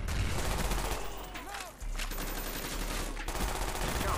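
Kiparis submachine gun fire in Call of Duty: Black Ops 1, heard as rapid automatic bursts that carry through most of the moment, with a short dip partway and no voices.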